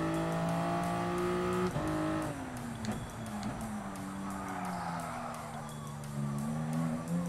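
Race cars in Gran Turismo Sport, engines droning and shifting pitch with tyre squeal and skidding, continuous and fairly loud game audio throughout.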